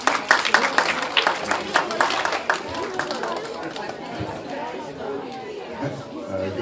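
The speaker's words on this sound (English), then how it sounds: "Let's give a round of applause for Rev Mingo." Audience applauds and chatters as a pastor is introduced at a church gathering, with dense clapping strongest in the first couple of seconds, then fading into crowd murmur.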